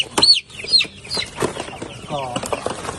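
Phu Phan black chickens cluck and call in a farm setting, several short bird calls and clucks near the listener with some flapping and background noise, no clear talk.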